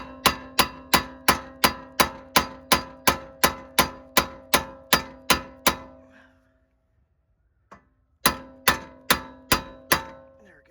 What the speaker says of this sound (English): We're going to do the tie rod in as well with the hammer.